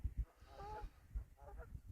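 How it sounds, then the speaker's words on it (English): Geese cackle in faint, distant honking calls, a few brief nasal bursts over quiet low wind rumble on an open fell with no talking. "the only creatures around here apart from ourselves are geese, which are sort of cackling away or whatever they do"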